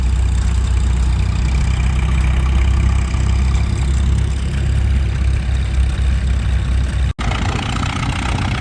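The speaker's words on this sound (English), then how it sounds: "Got a scraper and a wheel packer out here" Heavy engines of a scraper and a wheel packer working a dirt track for an antique tractor pull, a steady low idling rumble throughout with a sharp brief knock near the end.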